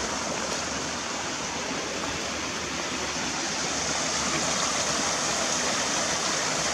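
Water rushes continuously nearby, a steady, full hiss of a flowing mountain stream in Wolchulsan National Park, South Korea, with no pauses or voices.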